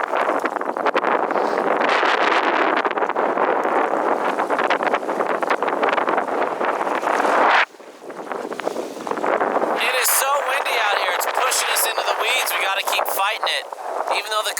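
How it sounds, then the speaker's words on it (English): Wind gusts across a river canyon on the Green River, a broad steady roar with brief lulls, shifting to a thinner rustling hiss partway through, with people talking faintly beneath it. "These bushes are blocking the wind for us."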